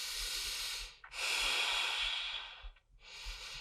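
Slow, deep breaths through the nose and mouth while holding a core exercise position: a long airy exhale, a pause, then another breath starting, close and alone.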